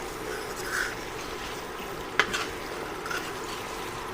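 Masala frying in a pan for fish curry, a soft, continuous low sizzle with a few light stirring clicks, fairly faint and close.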